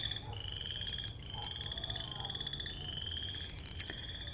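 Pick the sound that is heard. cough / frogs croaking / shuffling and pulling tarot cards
frogs croaking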